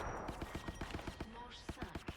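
Rapid bursts of gunfire in the battle royale game Apex Legends, a string of sharp repeated shots crackling over a busy background mix.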